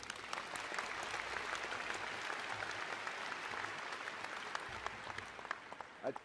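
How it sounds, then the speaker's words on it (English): Audience applauding an award presenter at a spring engineering commencement ceremony, a continuous wash of many hands clapping at a soft, distant level. "Another round of applause for Dr."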